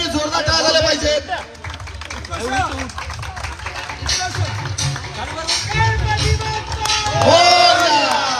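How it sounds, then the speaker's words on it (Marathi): Crowd at the final match of a local cricket premier league in Bandra East, cheering and clapping loudly for the winning team, with shouts and babble throughout. "आजच्या दिवसातील अंतिम सामन्याचा विजेता संघ वॉर्ड क्रमांक 87 साठी जोरदार टाळ्या झाल्या पाहिजेत"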